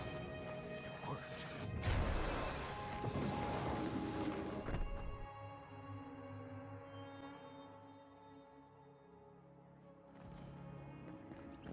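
An explosion booms in the fantasy role-playing video game Avowed, a loud crashing burst with low rumbling debris that fades into a lingering tonal game ambience.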